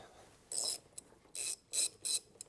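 Ratchet loosening a 10 mm nut on the battery terminal of a 2015-or-later Ford F150, heard as four short bursts of rapid clicking close up, with brief pauses and a single click between them.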